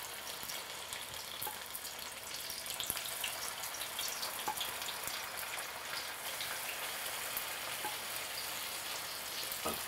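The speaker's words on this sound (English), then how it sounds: "You want the oil to bubble like that." Turon spring rolls frying in hot oil: a continuous fine crackling sizzle of bubbling oil, steady and close, with no talk over it.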